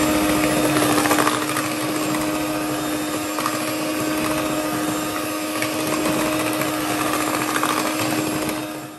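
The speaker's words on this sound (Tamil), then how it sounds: "இதை நல்லா பீட் பண்ணுங்க" Electric mixer loudly whirring as it beats eggs into butter cake batter, a steady high-pitched motor drone running continuously for the whole stretch with no talk.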